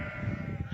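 Sheep bleating on a working sheep farm during sorting, spraying and marking, a few short calls close by over a steady background hum.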